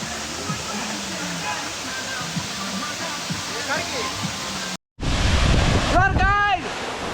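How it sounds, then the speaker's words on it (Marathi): Barki waterfall gives a constant broadband rush of falling water. Outdoor wind and voices sit over it, then the recording cuts out briefly and resumes louder and nearer. "तिथं धबधबा आहे बघा"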